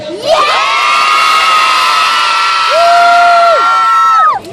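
A live gator show audience cheers, whoops and shouts loudly all at once, children's high voices prominent, a sustained roar of crowd noise that swells near the end before cutting off.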